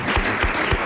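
Short burst of studio audience applause on a French radio quiz show, dense clapping at close range with no talk over it.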